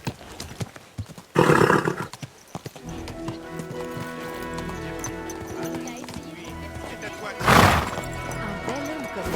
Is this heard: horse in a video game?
yes